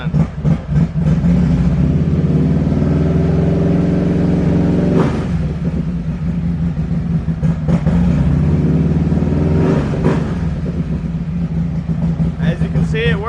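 A Harley-Davidson motorcycle engine idles and is revved up to about 2,000 RPM in several swells, loud and close, with someone talking over much of it.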